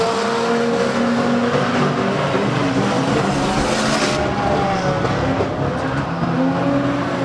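Banger racing cars roar around an arena oval on the final lap, a dense, loud wash of straining engines with tire scrubbing and shifting revs throughout.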